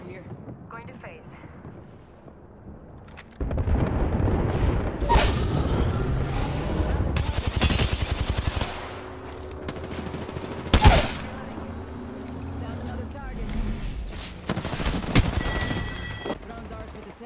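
Repeated gunfire bursts and heavy explosive booms from Apex Legends, loud and close, with an airstrike-style barrage crashing in mid-fight and a player's voice talking over the action.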